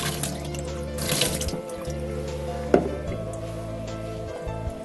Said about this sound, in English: You pour the water all over your hand,